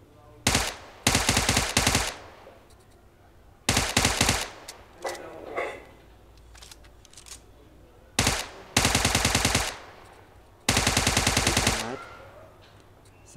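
UMP submachine gun fire in PUBG Mobile comes in loud, sharp full-auto bursts of rapid shots, separated by short pauses with faint quieter shots and a brief voice between them.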